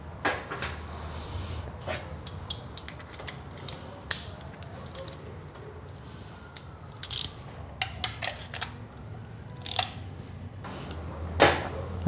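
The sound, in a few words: tool unscrewing an engine spark plug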